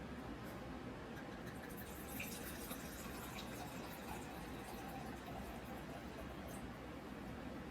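Wine poured into a pan holding chicken breast gives a continuous, faint liquid gush that holds steady for several seconds with no talking.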